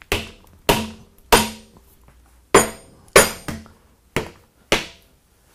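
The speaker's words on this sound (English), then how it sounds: "once we probably whack it with a rawhide mallet, something a little bit heavier" A rawhide mallet whacks a metal part on a workbench, seven sharp separate strikes at an uneven pace, close and loud with brief ringing after each blow.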